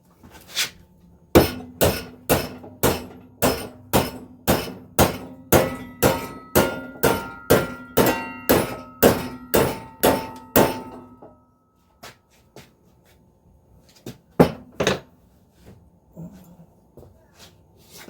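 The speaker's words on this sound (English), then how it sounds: "we'll now smack it with a hammer to flatten it up as good as we can" A hammer strikes a bent metal piece repeatedly to flatten it, about twenty sharp ringing clangs in a steady rhythm, close and loud, then a pause and a few scattered knocks and clanks near the end.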